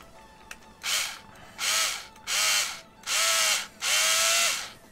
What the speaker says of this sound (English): you drill into the base